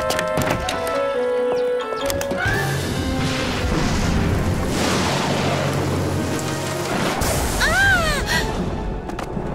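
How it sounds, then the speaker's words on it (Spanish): Cartoon thunder rumbles and crashes loudly across the clip, mixed with music and sound effects, including a rising whistle-like tone near the end. "Es solo un sonido de trueno."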